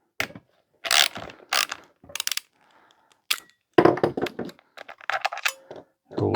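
A bolt being undone with a ratchet on a 170cc four-stroke Victa lawnmower engine, heard as several separate bursts of close, crisp clicking with short quiet gaps between them.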